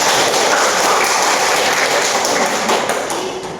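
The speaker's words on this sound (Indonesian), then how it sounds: "Kita beri aplaus dulu teman-teman." Applause from an audience at a university lecturing-certification session, a dense, steady wash of many hands clapping close by, holding level for about three seconds before starting to fade.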